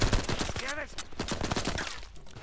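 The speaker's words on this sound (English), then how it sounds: "You see the dust come out of the rocks as they've been shot." Gunshots in Uncharted 4 striking rocks, a rapid burst of several loud cracks of gunfire layered over game music and effects, with a brief tonal sweep in the middle.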